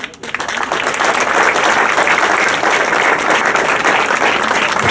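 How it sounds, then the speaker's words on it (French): Loud, dense audience applause at the inauguration of the Papillons de nuit festival, rising sharply at the start and holding as a steady roar of many hands without pause. "Il faut l'applaudir."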